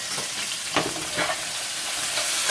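Chicken searing in a non-stick pan gives a steady, close sizzle with a couple of brief stirring scrapes, no talking over it.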